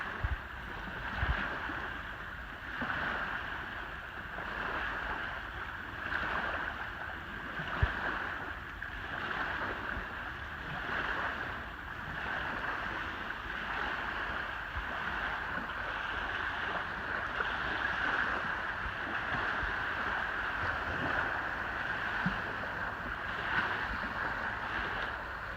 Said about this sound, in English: Waves coming in from the boat that went by.